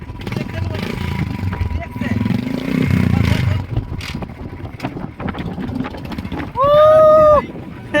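A motorcycle rides on the sandy Hijli sea beach, its low engine rumble swelling and fading amid strong wind buffeting. People talk nearby, and a brief tonal horn-like note sounds near the end.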